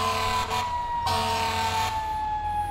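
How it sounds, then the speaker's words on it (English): Emergency vehicle siren from the video game EmergeNYC, a steady wailing tone that cuts out and restarts in short bursts, loud and close with no talking. "the siren volume from vehicle to vehicle differs"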